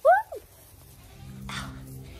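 A goat lets out a loud, sharp bleat right at the start, followed by a shorter second cry, then a quieter, fainter bleat from another animal at a farm feeding station.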